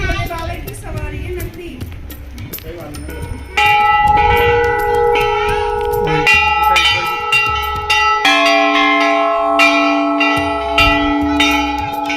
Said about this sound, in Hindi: यहाँ पर घंटियाँ आपको देखने को मिलती हैं हर प्रकार के साइज़ की, बड़े से छोटी, छोटे से बड़ी